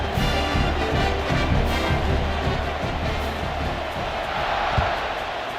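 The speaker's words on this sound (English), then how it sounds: "Do you think this crowd's going to get loud when their defense comes on the field?" Stadium crowd noise from a football video game, a steady roaring murmur with swells of cheering, continuous throughout with a few sharper bursts.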